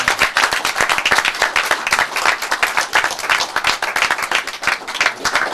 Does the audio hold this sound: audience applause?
yes